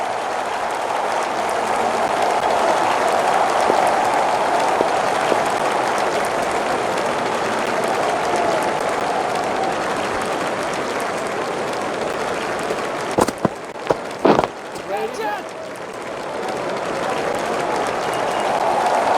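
Crowd applause in the cricket video game Don Bradman Cricket, a loud, steady roar of clapping and cheering from a large stadium crowd that holds for many seconds, then breaks into a few sharp clicks near the end.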